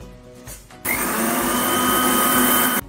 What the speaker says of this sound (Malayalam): ഇനി നമുക്ക് പഞ്ചസാര പൊടിച്ചെടുക്കാം.